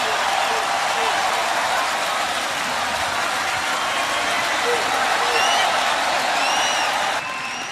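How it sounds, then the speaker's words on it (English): A boxing arena crowd roars and cheers at the end of a professional prize fight, a dense, sustained wall of noise holding steady throughout, with faint whistles cutting through near the end. "Listen to the crowd reaction."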